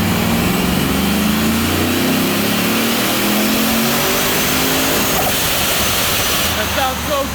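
A supercharged sleeper work van engine roars on a dyno with its exhaust cutout closed, a loud, sustained wide-open rev that climbs steadily in pitch before easing off, with a voice briefly heard over it.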